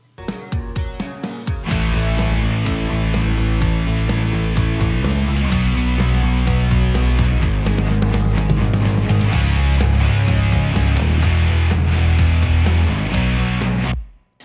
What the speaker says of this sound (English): the bass in this section here, all the way through this part of the song, is only there to support the guitars